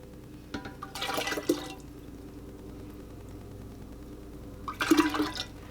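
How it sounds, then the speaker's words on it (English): Hot tea poured through a strainer, two short bursts of close liquid splashing and trickling separated by a quiet stretch, fairly soft against a faint background hum. "So I'm gonna strain my hot tea through this strainer just to get out any last little bits of tea."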